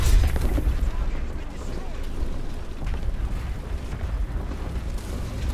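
Tank cannon and gunfire in War Thunder from an M60 AMBT Patton, a steady loud rumbling wash of battle noise with booming low end throughout.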